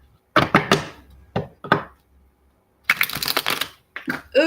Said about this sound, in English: Let me just shuffle these up a little bit.